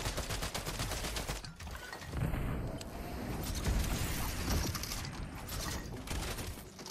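Rapid bursts of video-game gunfire crackle over a dense, busy mix of mechanical clatter, loud and continuous with no talking.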